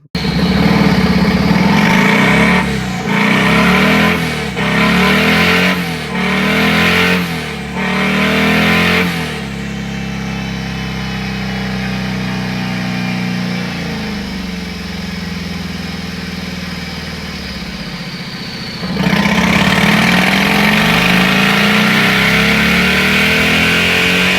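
A boosted Harley-Davidson V-twin engine roars on a dyno, revving up in several sharp repeated bursts, then settling into a long steady high drone before climbing again, very loud and close.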